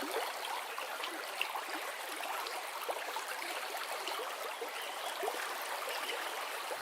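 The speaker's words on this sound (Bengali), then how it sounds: "কলসি ডুবিয়ে জল নিচ্ছে" A cartoon sound effect of a clay pot being dipped into water to fill it. It is a faint, continuous trickling and gurgling wash of water, with no voices.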